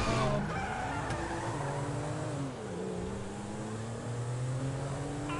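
A car driving in GTA 5, its engine droning steadily with pitch rising and falling as it revs and shifts, loud and close throughout, with no talk over it.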